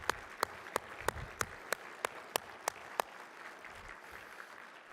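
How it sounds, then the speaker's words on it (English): A round of applause from the audience at a judicial excellence gala in Colorado, with steady dense clapping throughout and a series of sharp, evenly spaced loud claps standing out for the first three seconds before the crowd settles into a softer wash. "Let's give them one more round of applause."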